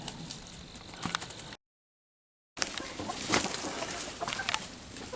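Chickens foraging outdoors give soft, scattered clucks and pecking patter at moderate distance, broken by a second of dead silence before the clucking and rustling resume.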